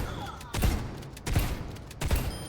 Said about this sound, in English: Jonker Queen, left click, is a shotgun.